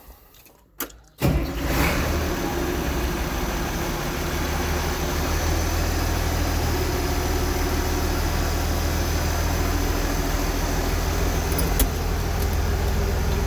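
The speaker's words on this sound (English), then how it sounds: "give you guys a little sound of the muffler delete" An International Harvester 1586 tractor with its muffler removed starts with a brief crank, then settles into a loud, steady, deep engine drone that runs unbroken close by.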